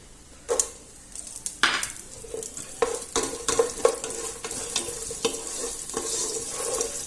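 Raisins and dry fruits sauté over a low-medium flame in a pan, with a steady soft sizzle and repeated scraping stirs and light clinks of a spoon against the pan.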